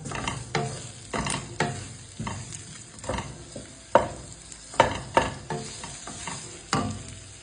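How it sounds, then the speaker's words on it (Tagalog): Onion and garlic sautéing in a pan for chicken adobo, with repeated stirring scrapes and bursts of sizzle in an irregular rhythm, close and fairly loud, no voices. "Gigisayin na natin ang ating sibuyas, bawang."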